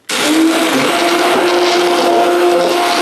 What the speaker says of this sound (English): I'm just gonna take my immersion blender and really make it fine, the eggshells.